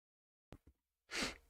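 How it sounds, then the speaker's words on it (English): A single short, sharp sneeze after a couple of quick intakes of breath, close and fairly quiet. "I sneezed."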